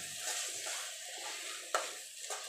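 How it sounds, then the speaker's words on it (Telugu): Kalivi berry curry gravy is stirred in a pan over the heat, with a soft continuous sizzle under gentle rhythmic scraping and one sharper knock of the spoon against the pan. "దీన్ని వేసి బాగా కలుపుకోవాలి."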